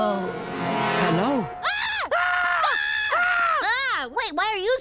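Cartoon characters from Bob's Burgers screaming in loud, sustained wavering wails that rise and fall in pitch, several long cries one after another, with brief breaks between them.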